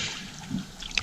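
A canoe paddle dips into water, giving a brief soft splash and trickle up close.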